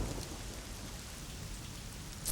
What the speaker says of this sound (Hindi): अगर बारिश से भीग जाते तो हालत ही खस्ता हो जाती